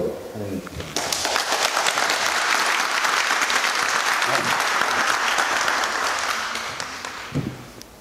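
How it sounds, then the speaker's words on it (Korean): An audience at a lecture bursts into warm applause to welcome the speaker, a hospital chairman, the clapping dense and sustained for several seconds before fading, with talk from a microphone just before and after. "큰 박수로 환영해 주십니다"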